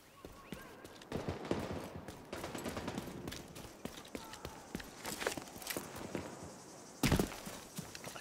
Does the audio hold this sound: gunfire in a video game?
yes